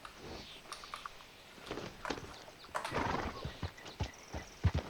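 A horse in Red Dead Redemption 2 clip-clops in uneven steps, with a short whinny, fairly quiet, alongside faint clicking like keys being pressed.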